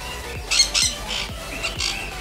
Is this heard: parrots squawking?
yes